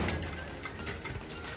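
Pigeons cooing inside a loft holding about a hundred birds, a steady close murmur of soft overlapping coos with no talk.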